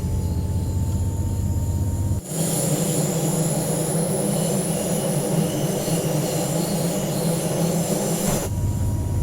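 Loud, steady running noise from a DB BR 612 diesel multiple unit in the Train Sim World 2 simulator, with heavy low rumble and broadband rolling roar that swells sharply after a brief quieter start and holds until dropping back near the end.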